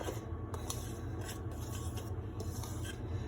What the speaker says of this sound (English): the directions just say to whisk this together